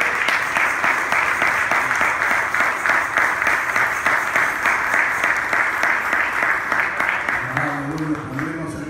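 A church congregation applauding at a Sunday devotional service, with loud, sustained clapping throughout that fades near the end as a voice begins to speak.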